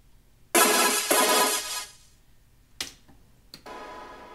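Short dry synth stabs with the reverb bus muted: a bright chord burst, a quick repeat, then two brief hits spaced apart, each cutting off cleanly with no tail.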